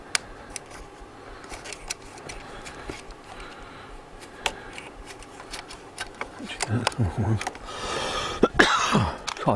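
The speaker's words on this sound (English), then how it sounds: "I don't know where these tickly blimmin' coughs come from" A man coughs and clears his throat with a few tickly coughs toward the end, close and fairly loud, after quieter rustling and handling sounds indoors.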